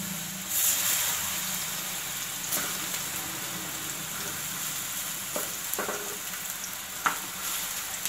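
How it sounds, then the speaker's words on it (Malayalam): Ripe plantain slices fry in ghee on a hot tawa, giving a steady, close, crackling sizzle throughout, with a few light clinks and taps from the pan. "നല്ല ചൂടായിരിക്കുകയാണ് തവ. നമുക്കതിലേക്ക് ഏത്തപ്പഴം ഇതുപോലെ ഒന്ന് ഇട്ട് കൊടുക്കാം."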